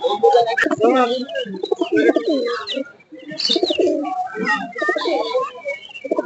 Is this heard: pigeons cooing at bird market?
yes